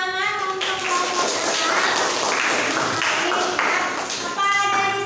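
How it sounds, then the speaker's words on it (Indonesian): Classroom group giving applause after a student biology project presentation: a dense burst of clapping from many hands, fairly close, with a tonal sound before and after. "Kasih tepuk tangan untuk kelompok"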